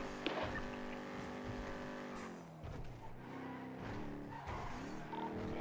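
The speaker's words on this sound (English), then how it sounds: "I hear the car." A car driven in the GTA NoPixel roleplay game, engine revving and shifting with rising and falling pitch, a brief tire skid and steady road noise, close and loud with no talk.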